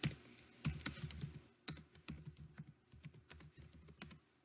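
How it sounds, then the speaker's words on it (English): Computer keyboard typing, a quiet, close patter of irregular key clicks in quick bursts with brief pauses between. "I'm going to type"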